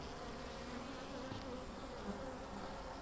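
Honey bees buzz at their hive, a thick, continuous droning hum of many insects close by, steady in loudness throughout with no voices.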